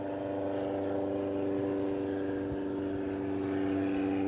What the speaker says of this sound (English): we got a plane above going and he's riding by looking at this chicken.